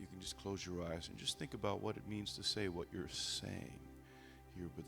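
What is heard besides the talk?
None of the usual background noises is heard.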